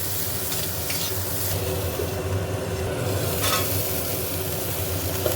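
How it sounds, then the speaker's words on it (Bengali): Cauliflower fries in hot oil in a kadai with a dense, continuous sizzle, stirred and turned now and then, loud and close with no talk. "উল্টে পাল্টে নিয়ে ঢাকা দিয়ে ফুলকপিটা ভেজে নেব।"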